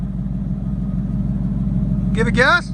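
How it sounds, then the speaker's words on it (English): A Ford Mustang GT 5.0 V8 with a Borla ATAK exhaust idles with a steady, loud, low burble, and a voice cuts in briefly near the end. "That's the idle on it, guys."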